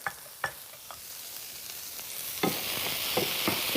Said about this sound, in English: Just gonna stir fry that asparagus for just a minute more